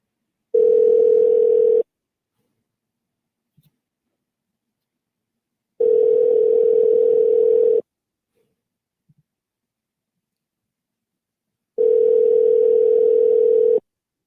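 Telephone dial tone while calling a live show guest: three loud, steady tone bursts of about two seconds each, separated by long silences with faint clicks.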